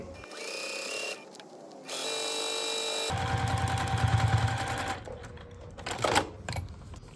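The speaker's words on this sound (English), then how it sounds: "Let's sew this up." Sewing machine stitching a foundation paper pieced quilt block, with several short runs of close mechanical whirring broken by brief stops and handling noises.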